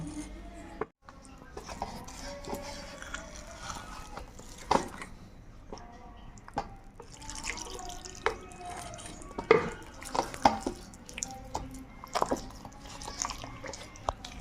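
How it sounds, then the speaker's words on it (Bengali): A spoon stirs pancake batter for patishapta pithe in a bowl as warm milk is added a little at a time, giving soft wet squishing, dripping and clinking sounds at close range. "এরপরে অল্প অল্প দুধ দিয়ে গোলাটা তৈরি করে নেব।"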